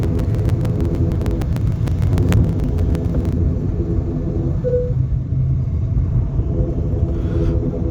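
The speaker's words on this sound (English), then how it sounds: "And after refueling the aircraft we started our way over to the runway to take off." Steady low engine rumble inside an ATR turboprop airliner taxiing toward the runway, with a run of sharp clicks early on before the drone settles into a continuous cabin hum.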